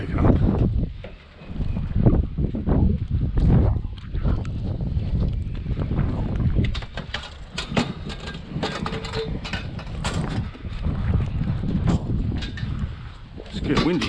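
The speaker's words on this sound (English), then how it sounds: "It's getting windy, guys." Strong wind blowing outdoors during street scrapping, a steady heavy rumbling buffet across the microphone throughout, with gusty swells.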